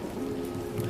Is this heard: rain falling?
yes